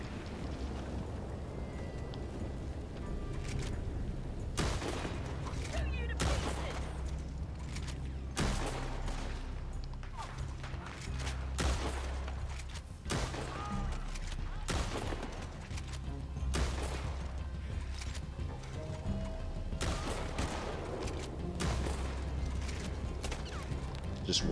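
Repeated gunfire in the Red Dead Online video game during a bounty hunt, sharp bursts of shots recurring through the stretch over a steady low game rumble, fairly loud and close.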